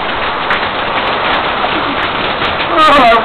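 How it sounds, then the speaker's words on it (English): Heavy rain pours steadily during a severe thunderstorm with frequent lightning, a dense close wash of downpour throughout, with a brief burst of louder noise near the end. "Storm's getting, starting to pour now."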